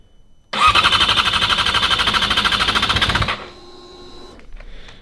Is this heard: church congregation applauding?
no